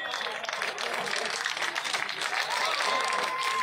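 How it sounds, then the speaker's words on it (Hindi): An audience at a village gathering applauds steadily, a dense wash of many hands clapping at moderate distance, continuous throughout. "जोरदार तालियों के साथ अपने बेटे अपने भाई का हौसला बढ़ाए"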